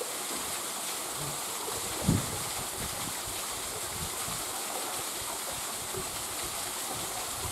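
Rushing water from a waterfall on Sheung Luk Stream in Hong Kong: a steady, dense roar that holds evenly throughout, with one brief dull thump near the middle.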